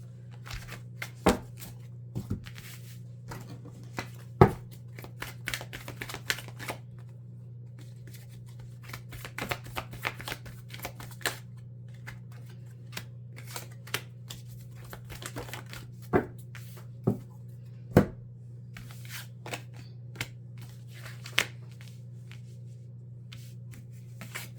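Tarot cards, a Good Tarot and Crystal Tarot deck, are shuffled for a winter reading, with soft papery rustling and scattered sharp snaps and flicks over a steady low hum.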